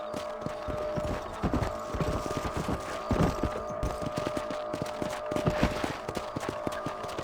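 Horses' hooves clop in a steady rhythmic gait while riding at a walk across open ranch land in the video game Red Dead Redemption, moderately close and alone without talk.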